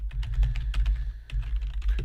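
Quick bursts of keystrokes clatter on a computer keyboard, close and clear, with a brief pause midway before the tapping resumes.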